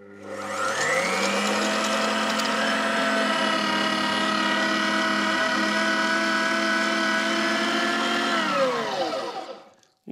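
An electric meat grinder mincing chicken fillets runs steadily for about nine seconds with a loud, constant motor whine, then winds down and cuts off at the end.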